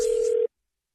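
A telephone dial tone sounds during a prank call on a radio show, one steady loud tone lasting about half a second before cutting off abruptly into silence.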